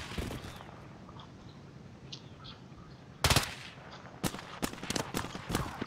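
Gunfire in the video game Warzone, faint distant shots early on, then loud close bursts of rapid automatic fire and sharp single cracks in the latter half, with no talk over them.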